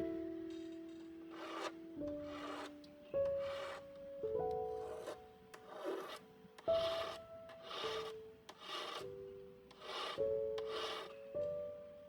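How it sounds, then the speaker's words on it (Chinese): A coarse file rasps across a hardened, hammer-formed metal sheet earring in repeated back-and-forth strokes, making about a dozen gritty scraping bursts with short pauses between them, close and moderately quiet, with no voices. "我们一开始先用粗锉刀，我们先把大面积的这个比较不平的面先把它搓平"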